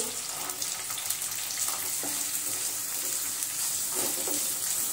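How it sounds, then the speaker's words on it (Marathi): Green peas sautéing in a pan with cauliflower for a hotel-style veg Kolhapuri, giving a steady, close, bright sizzle and hiss throughout with a few soft stirring scrapes and no talking. "त्यामध्येच आपण मटर परतून घेऊ."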